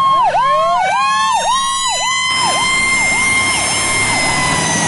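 A fire engine siren wails loudly nearby in quick, repeating rise-and-fall sweeps, then settles into a slower, smoother cycle, with no talk over it.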